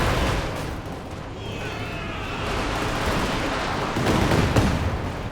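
Tank gunfire in Company of Heroes 2, with Panzer shots hitting the ruins of a farmhouse: dense, continuous booming battle noise with overlapping blasts and rumble, swelling louder near the end.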